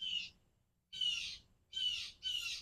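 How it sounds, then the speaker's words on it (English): A bird outdoors gives four loud, harsh, squawking calls in separate bursts with short pauses between them, with nothing else audible. "That bird has something to say too."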